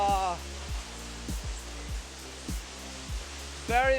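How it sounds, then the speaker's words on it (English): The waterfall at Silver Falls, Oregon sends a steady, rushing roar of falling water throughout, moderately loud, while someone talks intermittently over it. "See the waterfall."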